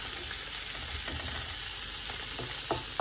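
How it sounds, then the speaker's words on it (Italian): Smoked speck sizzles in a frying pan as its fat melts, a steady close crackle with a few sharper pops and light stirring, no talking. "quindi facciamo cuocere un po' il nostro speck"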